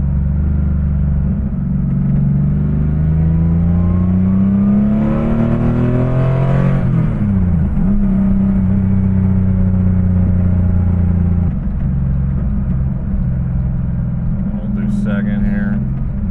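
A 1985 Porsche 911 3.2 Carrera engine with the muffler removed rumbles steadily, then revs up through a downshift with a rising and falling growl, loud and close, with someone talking over it.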